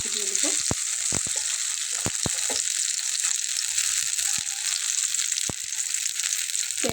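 Turned stuffed pointed gourds fry in oil with a constant close hiss. Occasional short clicks and scraping sounds break through the steady sizzle, and no one speaks.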